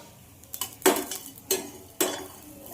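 A metal spoon scraping and knocking in a pan while cumin, lentils and coconut are sautéed, with three or four sharp clinks over quiet background.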